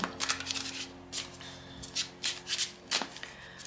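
Symbolon cards are shuffled and handled for a card reading, giving soft, close papery riffles and rubbing in short bursts, with no talk.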